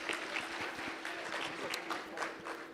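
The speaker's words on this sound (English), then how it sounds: "Can we applaud Edwin for that?" Conference audience applauding a speaker at a family planning learning event, a steady dense patter of many hands clapping at moderate level, sustained throughout with faint voices underneath.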